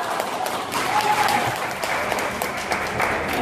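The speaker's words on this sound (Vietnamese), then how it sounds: "có thể cho em một tràng pháo tay lớn được không ạ" Sustained audience applause at a Vietnamese stage program, steady dense clapping throughout with faint crowd murmur underneath.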